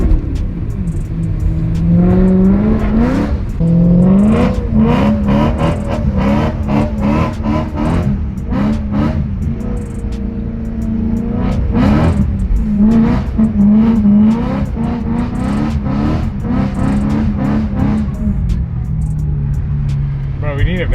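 A BMW M3 with an aftermarket exhaust barks through a series of loud, close revs and rising pulls, with excited voices talking over the engine throughout.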